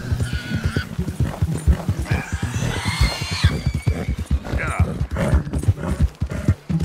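Horse hooves clip-clop steadily and close in Red Dead Redemption 2 gameplay, a continuous rhythmic trot with a neigh and low background hum mixed in.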